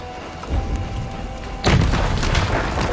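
A bomb explosion in Assassin's Creed Valhalla, a loud deep boom that sets off sustained rumbling under ongoing game noise.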